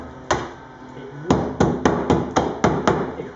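A hammer tapping rust off a Ford Transit van, one sharp metallic knock followed after a pause by a quick run of about seven evenly spaced taps, close and fairly loud.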